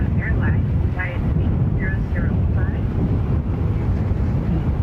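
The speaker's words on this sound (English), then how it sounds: "Departing from JFK is Japan Airlines Flight 8005." Japan Airlines Boeing 777-346 departing JFK airport, a steady low engine roar with rumbling wind-buffeted noise, heard alongside a voice talking over it.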